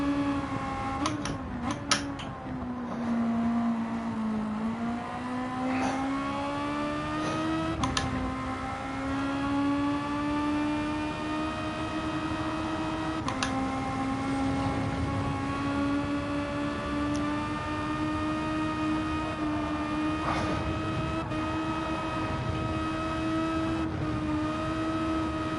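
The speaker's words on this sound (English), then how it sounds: "I could just listen to that noisy Honda VTEC touring car engine all day long" A naturally aspirated Honda VTEC touring car engine in the racing game Gran Turismo 7 drones loudly and continuously, its pitch climbing and dropping through gear changes over a steady high-revving whine.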